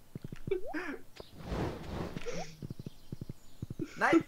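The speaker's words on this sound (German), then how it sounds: "Ich muss gerade Sukis Pferd mit klauen, deswegen reite ich immer abwechselnd ihr Pferd und dann mein Pferd ein Stückchen weg, damit ich beide wegbekomme." Horse hooves clip-clop in Stardew Valley, a farming video game, as steady evenly spaced clops with a brief whinny, alongside game music and a stretch of noisy sound.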